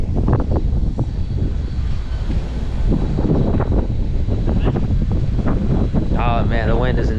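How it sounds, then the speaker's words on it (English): Strong outdoor wind buffets the microphone with a constant low roar, loud and close, around a car meet with a twin-turbo truck and a Shelby GT350; people talk over it. "Oh man, the wind is insane."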